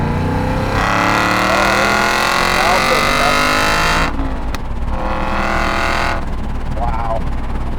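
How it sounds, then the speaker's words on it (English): A 2007 Aston Martin V8 Vantage with a 6-speed transmission revs hard and loud, the engine note sweeping up through the revs and dropping twice, with a voice talking faintly underneath. "let's hear what that V8 sounds like"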